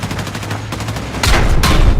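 Loud gunfire from Battlefield 6 multiplayer crackles in rapid automatic bursts, with heavier booming shots near the end, with no talking.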